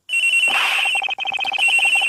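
Steady electronic cell phone ringing in the video game Ace Attorney Investigations, loud and near, with a rapid pulsing trill running through it and no voices.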